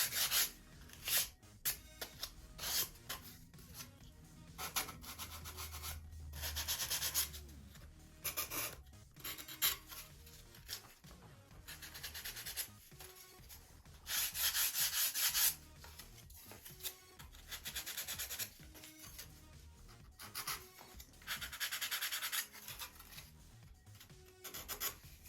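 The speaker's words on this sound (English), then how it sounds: "Just sand the edges just lightly." Sandpaper lightly rasps along the wooden edges of a Top Flite .60 size P-40E Warhawk model airplane fuselage in short repeated close strokes, with brief pauses between bursts and no talking.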